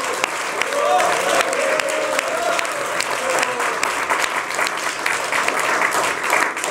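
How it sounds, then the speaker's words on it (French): A TV talk-show studio audience applauds a guest's introduction, with dense, steady clapping filling the whole stretch at an even, loud level and a voice faintly audible over it. "On peut l'applaudir."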